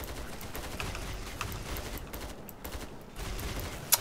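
Dense, continuous gunfire crackles throughout, bursts of shots overlapping in a busy firefight with no pauses, in the video game Killing Floor 2.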